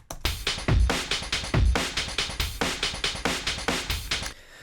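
Breakbeat slices sequenced in Tidal at 140 BPM, punchy kicks, snares and hi-hats in a fast, steady looping pattern, loud and alone before stopping abruptly.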